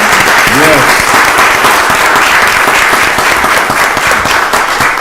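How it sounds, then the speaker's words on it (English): A county board of commissioners' voting session audience gives a round of applause for the organization's women, with dense, loud, continuous clapping throughout and a brief voice near the start. "So we are represented really well by the women in this organization. Let's give them a round of applause."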